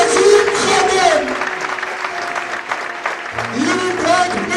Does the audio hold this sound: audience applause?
yes